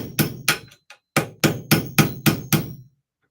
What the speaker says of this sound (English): I'm using a weird, like, tack hammer. But it's just perfect for taking these guns apart